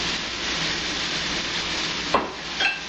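Pork chops sizzle steadily in a hot pan, a dense continuous frying hiss with a couple of brief clanks of tongs near the end, close and fairly loud with no talking.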